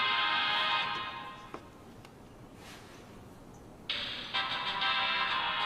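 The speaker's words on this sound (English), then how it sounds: "it turns out it's his cell phone ringtone" A cell phone ringtone plays a victory fanfare as a bright, tinny melody that sounds at first, fades to near silence for a few seconds, then returns at full loudness.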